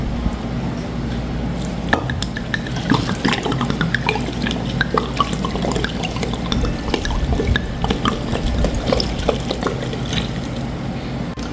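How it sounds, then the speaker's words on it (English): Water runs from a tap into a bottle during home baking, a steady splashing stream with small clinks and drips, moderately close and with no talk. "So I'm going to fill this bottle with water and top it off with water."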